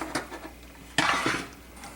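A spoon scoops gravy and onions from a meatloaf dish onto a plate, with light clinks and scrapes followed by one sharper clatter of metal on crockery, close and without talk.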